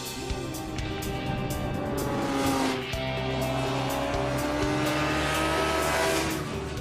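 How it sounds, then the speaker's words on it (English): A Suzuki GSX-R1000 street bike roars past the finish line at a race, its loud, sustained engine note filling the scene, with other engine noise and a brief dip before the sound swells again. "There goes the street bike."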